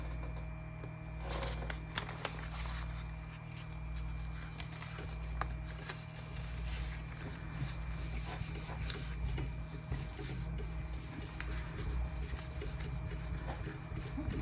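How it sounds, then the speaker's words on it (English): Rubbing over a stencil with small holes, a dense continuous scratchy friction that runs steadily for the whole stretch alongside a low hum, with no one speaking. "I have to make sure I really rub in those spots so I get them all picked up"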